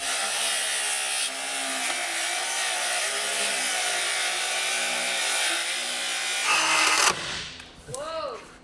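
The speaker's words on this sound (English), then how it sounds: "Chainsaw sounded fun." A loud, steady chainsaw roar cuts through wood for several seconds, then stops abruptly with a clatter as the engine winds down.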